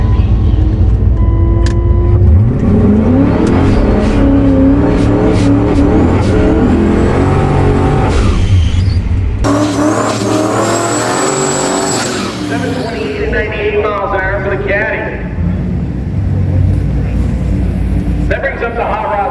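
A turbocharged Lincoln Town Car makes a drag racing run at the track: a loud engine roars and revs as it launches and pulls away, with crowd and announcer noise in the background and a squeal of tires.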